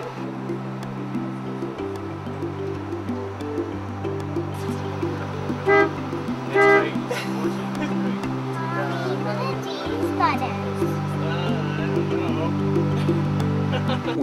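A big bus horn pressed by a small child, sounding in several long, loud tones against a steady idling engine, with adults talking and cheering around it.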